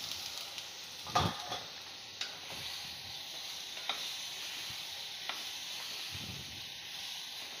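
Prawns, potatoes and brinjal frying in masala in a pan, with a steady soft sizzle and a few louder scraping stirs near the start and scattered clinks, no talking.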